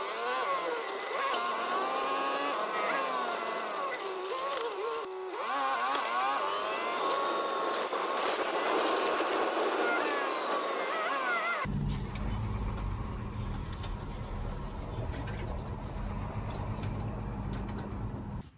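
A vehicle drives along a road with a steady, continuous hum of engine and road noise, close and unbroken, with an abrupt shift in tone partway through and no talking.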